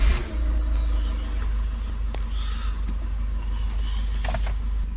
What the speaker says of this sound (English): So let's start the engine.